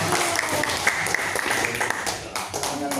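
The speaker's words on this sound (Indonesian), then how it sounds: "Tepuk tangan dulu buat Kang." Audience applause at a first-anniversary event for an online media outlet: dense, steady clapping that fills the room throughout, with some crowd noise mixed in.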